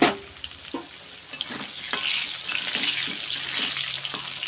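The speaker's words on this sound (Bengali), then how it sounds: "এবার আলুটাকে ভালোভাবে ভেজে নেব।" Potato pieces fry in oil with salt and turmeric, giving a steady close sizzle broken by sharp clicks of stirring against the pan.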